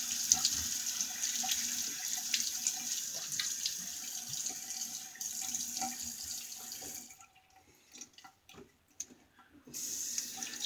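Tap water runs steadily into a sink while a face is wetted before shaving, briefly stopping for a few seconds of quiet handling and drips before the flow resumes.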